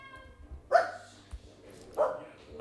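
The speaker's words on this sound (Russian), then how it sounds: "Это звук моей собаки." A dog barks twice, a couple of fairly faint, spaced-out woofs heard indoors over low background hum.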